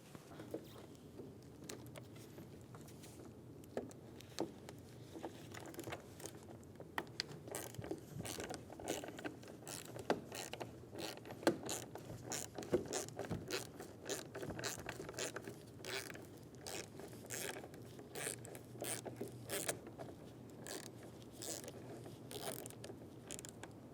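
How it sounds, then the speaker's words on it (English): A 10mm swivel socket ratchets loose the mirror bolt on a 2000-2007 Ford Focus driver side door, making quiet, rapid, uneven clicking throughout. "Remove the bolt for the mirror."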